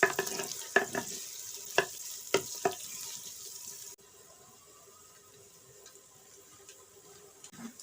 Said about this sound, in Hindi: अब हम प्याज डालेंगे। और प्याज़ों को ब्राउन करेंगे।